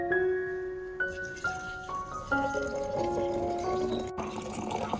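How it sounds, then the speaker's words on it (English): Clean water, about half a liter, pours into a container, its tone rising in steps as the vessel fills, with gentle splashing and trickling. "I poured in about 500 milliliters of water"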